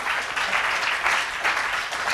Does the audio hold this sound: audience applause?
yes